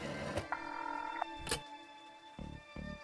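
An old telephone in The Darkside Detective being used to place a call: a few short dial tones and clicks, then two brief ring pulses, clear and close with no talking.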